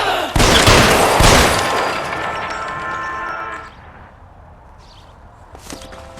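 Gunfire during a shootout in L.A. Noire, loud sharp shots in a quick burst followed by ringing echoes that fade away, with faint clicks near the end.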